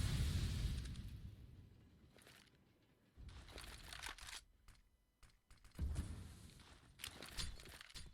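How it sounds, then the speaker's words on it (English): A grenade goes off in a Counter-Strike match, with a few short, sharp, broadband bursts among faint in-game footsteps and clatter, fairly quiet overall. "Thomas, that nade doing a little bit of damage towards Spellin"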